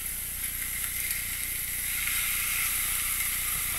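Peppered steak with A1 sauce sizzles on the ribbed side of a cast iron griddle pan, a steady close hiss that runs evenly throughout with no talk over it.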